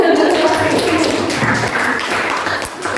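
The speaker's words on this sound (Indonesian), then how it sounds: "Tepuk tangan untuk mereka." Audience applause during a university teacher-training class session in Surakarta, a dense, steady patter of clapping filling the room for about three seconds, with voices mixed in underneath.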